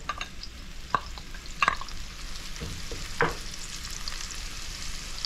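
Onion, garlic and ginger sauté in a pan over medium-high heat, a soft steady sizzle broken by several sharp scraping stirs and clinks of a utensil.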